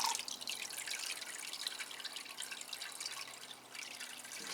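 Water dripping and trickling off wetted Phalaenopsis orchid leaves during watering, a faint, continuous patter of small drips, close and steady, with no voices.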